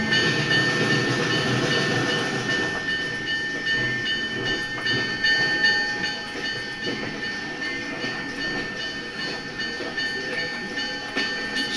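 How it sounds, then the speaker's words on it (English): A narrow gauge train runs along its rails with the caboose uncoupled, a steady broadband rumble of wheels and running gear with faint squealing tones, continuous and fairly loud throughout. "I took off the caboose so I can be able to take the train through."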